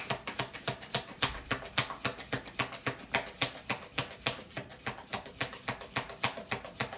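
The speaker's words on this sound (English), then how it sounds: "Let's get a couple shuffles." Tarot cards are shuffled in a rapid, even rhythm of crisp riffling slaps, about four per second, close and fairly quiet, with no talking.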